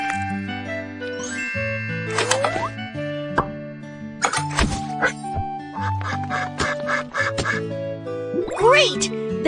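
Cartoon duck quacks in a BabyBus animal rescue kids' game, mixed with bright chimes, plops and dings, over steady background music with a narrator's voice at times.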